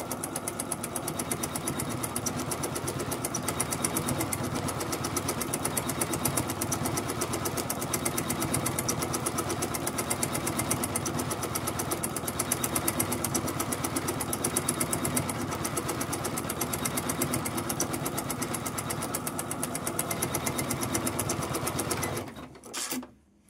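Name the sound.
450 sewing machine running and stitching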